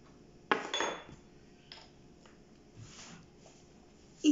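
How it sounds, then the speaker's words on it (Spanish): Gluten-free walnut cookie dough with egg and vanilla being mixed in a bowl, a few faint clinks and scrapes of utensil against the bowl, with a sharper knock near the end. "Y seguimos mezclando."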